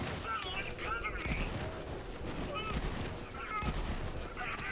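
Pump-action gun firing in the video game Borderlands 3, a few sharp blasts with bursts of game noise and faint voice-like sounds in between, over a busy background.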